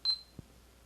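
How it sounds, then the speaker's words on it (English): A YI 4K action camera gives a short high beep followed by a softer second tone while pairing over Wi-Fi, a small thump coming a moment later, close and clear in an otherwise quiet room. "The camera started beeping."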